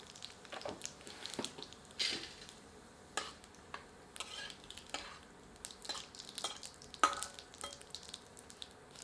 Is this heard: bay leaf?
yes